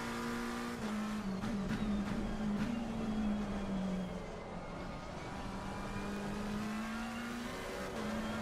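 Race cars in the Assetto Corsa Competizione sim game drone steadily through the whole stretch, a queue of engines holding a sustained note with slight pitch rises, loud and continuous with no talk.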